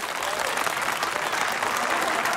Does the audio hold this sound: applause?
yes